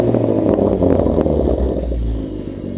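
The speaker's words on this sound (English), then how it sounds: "You can even hear the turbo through the exhaust now." A Ford Focus ST engine rumbles loudly up close through a Flowmaster American Thunder cat-back exhaust, its note deep and throaty with a faint turbo whistle on top, settling slightly toward the end.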